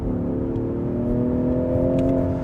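At full throttle with no brake torquing, a Range Rover Sport SE climbs slightly uphill as the engine drones and rises in pitch, a steady loud cabin rumble with no talking.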